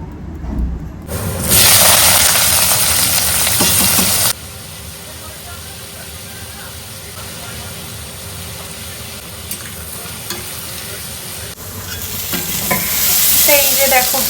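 Potatoes fry in a pan with panch phoron and poppy seeds, giving a loud, broad hiss that drops abruptly partway through, carries on more softly, then swells again near the end.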